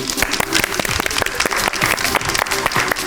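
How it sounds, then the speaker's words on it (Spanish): Audience applause welcoming a guest, Jorge Casará, at a science programme event: dense, steady clapping from a crowd, close and loud throughout, with no voices over it. "Le damos un fuerte aplauso a Jorge Casará."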